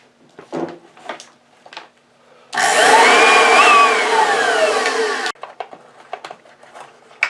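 An Oreck XL upright vacuum motor is switched on and whirs loudly for about three seconds with a rising and falling whine, then cuts off, with scattered handling clunks before and after.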